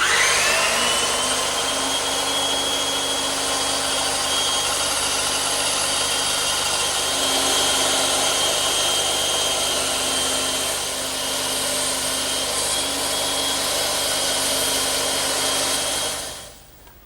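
A power saw cuts freehand through expensive timber without a rip fence while building an English garden bench, a steady loud whining drone running unbroken for about sixteen seconds before winding down at the end.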